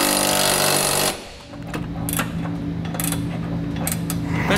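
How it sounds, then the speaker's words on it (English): A loud, rapid impact-tool rattle tightens trailer hitch bolts with a 19 mm socket on a 2017 Jeep Renegade, then stops abruptly after a second. Softer clicks and brief bursts follow over a low steady hum. "Now we can tighten down all of our hardware using a 19 millimeter socket and maybe a wrench for your side bolts."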